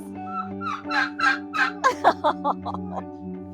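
Birds at an animal sanctuary give a rapid string of gobbling, turkey-like calls that rise and fall in quick bursts over a low, steady background hum.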